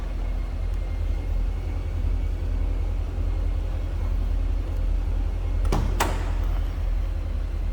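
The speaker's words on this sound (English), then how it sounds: "let's pop this hood." Under a steady low engine rumble from a 2008 Chevrolet Corvette coupe, a quick pair of sharp mechanical clunks sounds near the end as the hood latch releases; close, no speech.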